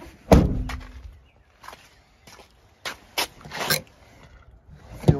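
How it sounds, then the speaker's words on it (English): A sharp thump of a 2017 Jeep Patriot door closing opens the clip, followed by several softer clicks and thuds of mechanisms, with quiet gaps between. "Door."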